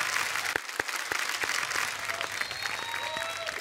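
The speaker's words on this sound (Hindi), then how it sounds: "नेहा दीदी और रोहन जीजू के लिए जोरदार तालियां हो जाएं।" Studio audience applause on a comedy talk show for a couple, dense continuous clapping with some sharp nearby claps and a faint tonal sound near the end.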